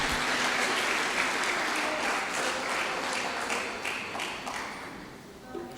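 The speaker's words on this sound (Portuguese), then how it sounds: "Aplauda a palavra do Senhor" A church congregation applauds during a sermon, a steady, moderately distant wash of clapping that fades slightly toward the end.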